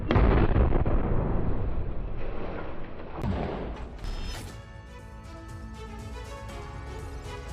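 Explosion from an attack on an Israeli tank in a Gaza combat zone: one heavy blast with rumbling debris, then a second sharp crack and a decaying roar, loud and distant-sounding, with no talk.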